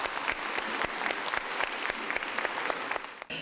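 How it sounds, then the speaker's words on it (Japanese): Townspeople in Gōtsu, Japan applaud a theatre performance by the Russian Pacific Navy troupe, a dense, steady wash of clapping from a full audience that stays loud throughout and ends abruptly. "素晴らしい舞台に市民は大きな拍手を送りました"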